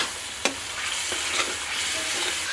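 Tomato cooks in spiced masala in a pan with a bright, continuous sizzle and a few sharp scrapes of a spoon, close and fairly loud, with no talking.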